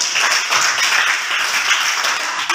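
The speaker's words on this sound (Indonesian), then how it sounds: "kita kasih tepuk tangan untuk" A classroom group claps together in sustained, even applause, a dense close wash of hand claps filling the whole stretch without talk.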